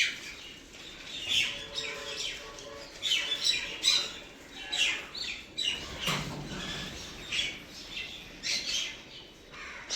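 Mynas and house sparrows call close by in the morning as they gather for food, with harsh repeated squawks mixed with quick chirps in overlapping bursts.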